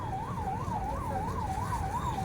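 An ambulance siren wails in a steady rising-and-falling cycle, about six sweeps, loud and continuous over low traffic rumble, during a civil defence drill in Paderu.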